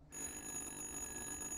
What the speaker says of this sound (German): Es ist nur ein Telefon, was kann groß passieren.